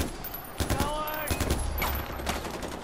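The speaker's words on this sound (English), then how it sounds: "I'm missing pretty much every shot." Bursts of rapid gunfire in the video game Far Cry 4, several sharp cracks in quick clusters over busy game sounds, with a voice talking faintly underneath.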